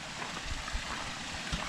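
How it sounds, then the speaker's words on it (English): Small waterfall in a Canadian garden gives a soft, steady flow of splashing water with a few faint gurgles. It is fairly quiet and close, with no talking. "Another little waterfall."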